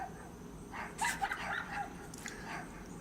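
Neighborhood dogs bark in the distance, a few faint, scattered barks and yips at irregular intervals over quiet background hiss, sounding far off outdoors.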